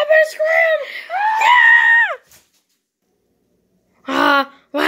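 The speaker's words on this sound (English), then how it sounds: "I'm gonna scream." A child lets out loud, high-pitched screams in two long bursts, then goes silent for a moment before a further scream.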